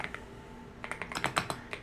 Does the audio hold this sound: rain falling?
no